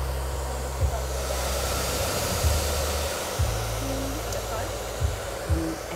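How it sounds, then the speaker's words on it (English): Hair dryer fitted with a diffuser drying short curly hair, a steady close whooshing roar with a low motor hum that shifts slightly in pitch as it moves. "you can see how beautiful that curly hair is drying with the diffuser"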